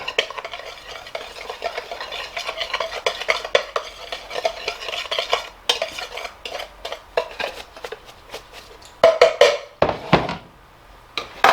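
Batter for fish fillets is mixed in a bowl with a series of irregular clinks, scrapes and stirring knocks that get louder and sharper toward the end, and no one speaks.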